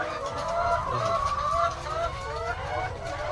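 Laying hens on a farm cluck continuously in a busy, overlapping chorus, close and fairly loud throughout.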